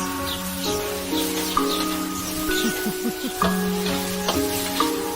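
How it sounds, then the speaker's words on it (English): Carrots with a little lettuce frying in a pan, a steady close sizzle running the whole time under background music, with occasional stirring clatters. "Cat's putting the carrots into the frying pan."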